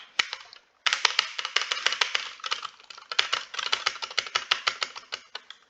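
Computer keyboard typing while playing Stumble Guys, a rapid run of close, crisp key clicks and taps with a brief pause near the start, continuing steadily to the end.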